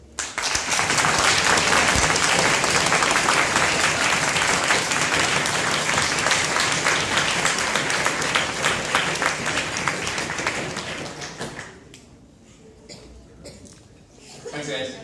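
A closing-ceremony audience bursts into loud sustained applause with scattered cheers and chuckles, the clapping holding strong for about ten seconds before thinning and fading into a few stray claps and murmurs.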